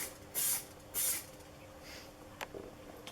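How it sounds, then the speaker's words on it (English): Two short, light sprays of super glue activator from an aerosol can in a woodturning shop, each a brief close hiss about half a second apart, followed by quiet with a faint third puff. "Just a couple light sprays."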